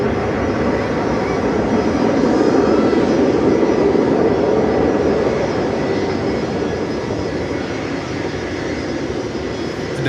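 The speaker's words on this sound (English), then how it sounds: "There's another freighter coming up." A cargo freighter jet at Miami Airport roars loud and steady for the whole stretch, a broad continuous engine rumble with no break and no talk over it.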